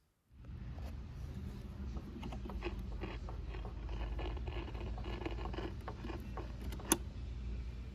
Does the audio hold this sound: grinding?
yes